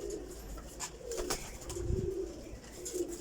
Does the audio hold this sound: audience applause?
no